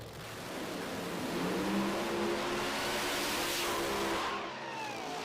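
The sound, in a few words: drag racing car accelerating down the track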